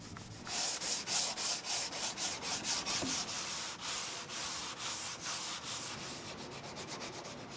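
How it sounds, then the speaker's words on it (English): Wooden parts of an Aeolian harp are hand-sanded with steady, rhythmic back-and-forth scratchy strokes that sound close and repeat evenly, with no talking. "Then some final sanding across all the parts."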